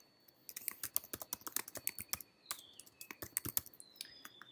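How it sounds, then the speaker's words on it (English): Fingers tap a computer keyboard up close in a quiet room, with quick, irregular bursts of crisp keystrokes over a few seconds. "Type in your category name."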